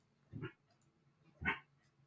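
A dog waking from a nap in a home office makes two brief, faint whimpering yips about a second apart in an otherwise quiet room.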